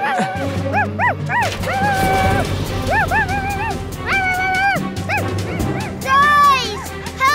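A cartoon dog yips and barks in short rising bursts over bouncy background music, with a few whimpering squeals near the end.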